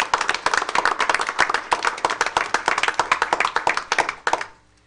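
Applause at a board of education meeting: a roomful of hands clapping, close and lively with distinct individual claps, lasting several seconds before stopping abruptly into quiet.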